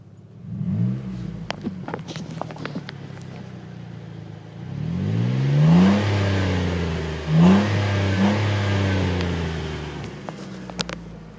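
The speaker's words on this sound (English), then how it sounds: "here's the Dynomax exhaust installed" A car fitted with a Dynomax aftermarket exhaust idles with a few blips, then revs up loudly in rising sweeps twice, droning deep and throaty before settling back to idle.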